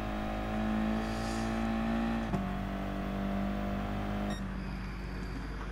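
Gr.4 race cars in Gran Turismo Sport crossing the finish line: a sustained engine whine with steady tones that shift in pitch as cars pass, loud and continuous, with no talk.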